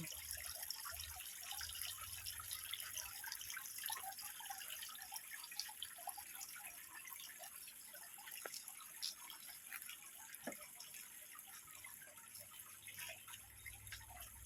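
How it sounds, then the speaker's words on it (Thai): Faint, steady trickle and drip of water spilling down a two-tier homemade foam waterfall into a pumped pond, a soft continuous splashing with scattered drips and a low pump hum. "ชั้นล่างนี้ก็จะสูบขึ้นไปที่น้ำตกทั้งสองชั้น แล้วก็ค่อยๆไหลลงมาชั้นล่างใหม่"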